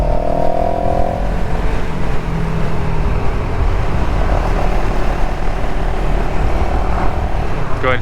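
A CFMOTO CLX 700 motorcycle engine runs in third gear at about 4,000 RPM while riding through town, a loud, steady drone mixed with constant wind rush.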